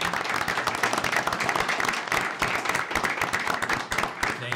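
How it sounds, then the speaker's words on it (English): A room of attendees at a city mayor and council meeting applauds a volunteer, the dense clapping steady and fairly loud throughout with a brief dip near the end. "let's give Barbara a round of applause for volunteering"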